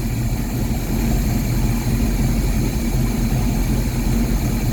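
A car engine fitted with a Rochester Quadrajet carburetor idles steadily at 600 RPM after its idle circuit has been richened, giving a smooth, continuous low rumble with no talk over it.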